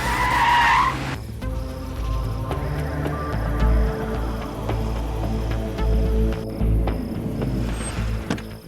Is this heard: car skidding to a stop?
yes